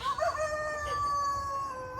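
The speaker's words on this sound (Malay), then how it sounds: "apa lah kat belakangnya ayam-ayam ni" A rooster crows in the background outdoors where vegetable seeds are being sown, a long drawn-out call held at steady moderate volume with no talking over it.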